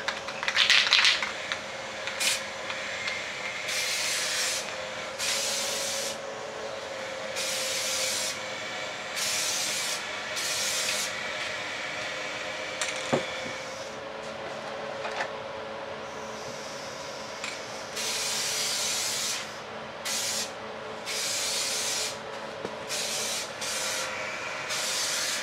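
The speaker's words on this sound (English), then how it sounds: "we're ready for the next coat of clear coat." Clear coat being sprayed from an aerosol can onto a Redcat RS10 RC Jeep body, a string of close, steady hissing bursts separated by short pauses, with no talking.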